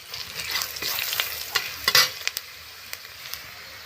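Bay leaves and five-spice tempering crackling in hot oil left from frying potatoes: a bright close sizzle with sharp pops and a few spatula scrapes, loudest in the middle, then settling to a lighter hiss.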